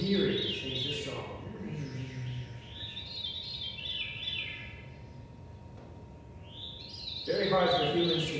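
Veery, a thrush resembling the wood thrush, sings spiraling, fluty descending phrases at moderate volume, with a person talking over the song at the start and end.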